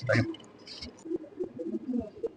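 Soft, low pigeon coos repeat in a loose rhythm nearby, with a short burst of voice or fluttering at the start.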